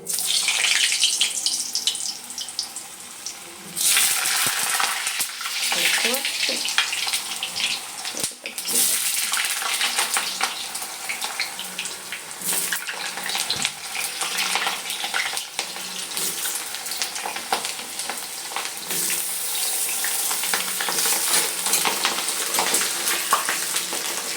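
Potato pieces dropped into hot oil and frying, a dense, hissing sizzle that swells loudly after a brief dip and stays strong, broken by occasional clinks and stirring sounds.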